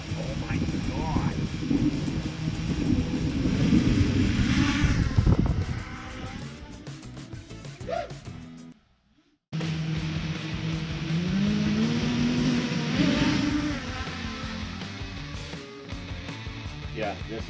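Motors of a 6-inch QAVR2 FPV quadcopter drone running on 6S scream loudly, with rising and falling whines and bursts, stopping abruptly for a moment then resuming, while a person talks over them.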